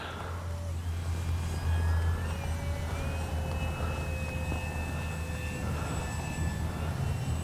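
An X-Fly Spitfire radio-controlled warbird model plane flying overhead, a thin whining electric motor drone that rises and falls in pitch as it passes, over steady outdoor wind noise.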